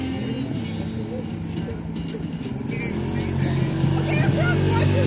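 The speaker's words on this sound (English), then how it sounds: "Dirt bikes over there." Dirt bikes running somewhere off to the side at an outdoor spot with a jump ramp and fire, a motor droning at a distance and getting louder toward the end, with a babble of people's voices over it.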